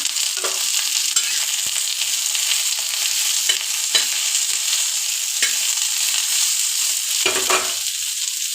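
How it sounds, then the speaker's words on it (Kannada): Onions fry in a pan for vegetable pulao, with a loud, continuous sizzle and several sharp stirring scrapes near the microphone, and no talk. "ಇಷ್ಟು ಈರುಳ್ಳಿನ ಹುರಿಯಾಕೊತಿದ್ದೀವಿ"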